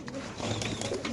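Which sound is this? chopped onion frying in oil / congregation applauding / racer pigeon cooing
racer pigeon cooing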